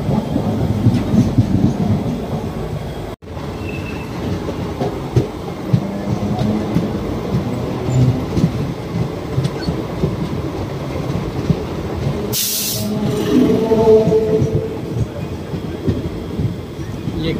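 Inside the Gangasagar Express passenger train running near Garifa: a loud, continuous rumble and rattling clatter of the carriage, with a momentary dropout early on and a brief hissing rush later.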